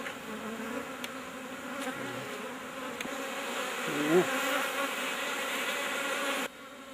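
Honey bees buzz steadily at a beekeeping site, a continuous close drone with a louder swell partway through as one passes near, no talking.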